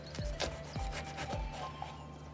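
A kitchen knife cuts around the core of a bell pepper being prepared for stuffing with minced meat, giving close, repeated rasping strokes against the flesh at a steady rhythm.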